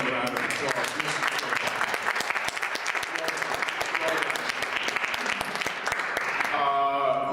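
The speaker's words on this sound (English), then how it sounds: "let's please give him another round of applause" An audience claps in sustained applause, dense and steady for several seconds, with a voice starting to speak over it near the end.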